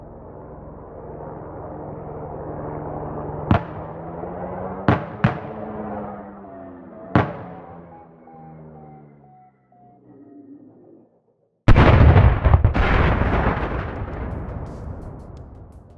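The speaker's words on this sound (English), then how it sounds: "Here's what it sounds like at a distance of 1 kilometer or less." A helicopter crash heard about a kilometer away in the video game DayZ: a low rumbling drone with several sharp distant booms, a short silence, then a loud sudden impact blast that trails off.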